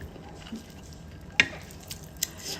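Pad see ew noodles are stir-fried dry with hot chilies in a home kitchen, giving a soft, steady sizzle with occasional sharp spatula clinks against the pan.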